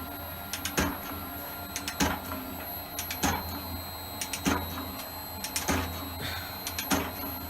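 A metal shaper, an Elliott 10M, machines the underside of a part, its ram cutting in a regular rhythm of sharp clacking strokes roughly every second over a steady mechanical hum.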